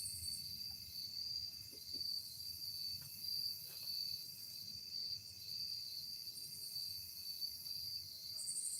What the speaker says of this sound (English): I hear the grasshoppers.